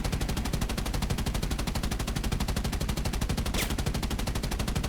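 Forward machine guns on a Bristol Beaufort Mk VIII fire in War Thunder, an unbroken rapid rattle of evenly spaced shots that stays loud and steady for the whole stretch, with no talking.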